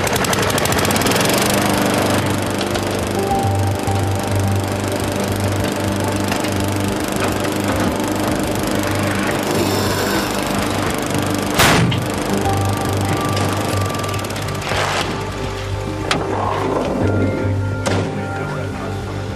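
A fire brigade power tool cuts open a car boot that has been welded shut, a loud, continuous close-up grinding and buzzing with a steady motor drone, broken by sharp splintering cracks near the middle and end, with no talking.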